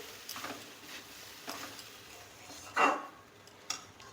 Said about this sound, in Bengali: চালটাকে আমি দুই তিন মিনিট ভাজা করে নিয়েছি হালকা আজে একটুখানি এরকম নাড়াচাড়া করে নিতে হবে